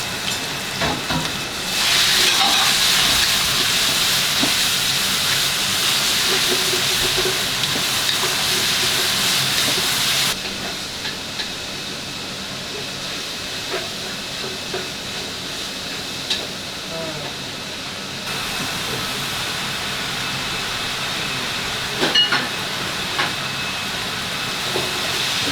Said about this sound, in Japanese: 量多いから、鍋で一気に焼いちゃいます。